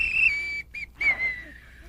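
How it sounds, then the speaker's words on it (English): A shrill whistle blows in two short blasts, the second trailing off gradually, clear and close with nothing else around it. "How about my whistle?"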